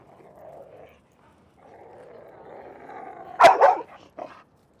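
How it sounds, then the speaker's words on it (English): A dog growls low and steadily during play, then lets out two sharp, close barks and a short final yelp, fairly loud and with no voices over it. "growling during play"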